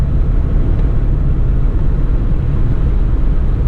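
A 1975 Lancia Fulvia engine fitted with intake trumpets pulls hard under acceleration, a loud, steady, dense roar that holds for the whole stretch with no voices over it.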